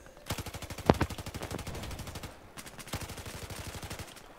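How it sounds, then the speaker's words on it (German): Rapid automatic gunfire from the Battlefield 4 video game on the Golmud Railway map comes in dense bursts of rattling shots with a brief pause between volleys, and no one talks over it. "Auf den habe ich auch geschossen, der war weit weg, das stimmt."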